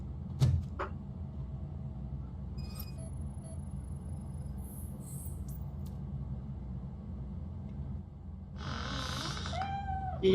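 A cat meows in the game RoboCop Rogue City: a short knock early on and a long low hum, then a couple of clear, close meows near the end.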